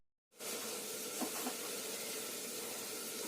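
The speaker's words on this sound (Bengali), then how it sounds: "এখন পটাপট বাঁধাকপিটাকে আগে সিদ্ধ বসিয়ে দিই" Cabbage boiling in a pot with salted water, giving a steady, even hiss of steam and bubbling that holds at one level from start to finish, with a couple of faint clinks partway through.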